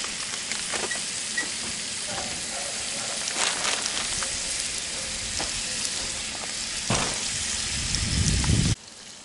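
Ground sausage fries and browns in a cast iron Dutch oven with a steady loud sizzle and hiss, broken by occasional scraping stirs, until it cuts off abruptly near the end.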